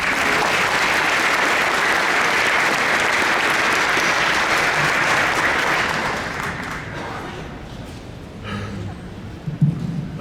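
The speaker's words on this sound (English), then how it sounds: "Let's give our sponsors a round of applause" A business event audience applauds its sponsors, loud and dense clapping that holds steady for about six seconds, then thins and fades out, leaving a few scattered claps and faint murmurs.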